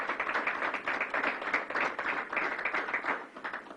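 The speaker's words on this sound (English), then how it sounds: "So I want to give you a round of applause, County Executive Poloncarz" A crowd claps at a COVID-19 press briefing held by New York's governor in Buffalo, a fairly faint, even patter of many hands that keeps going for a few seconds before thinning out at the close.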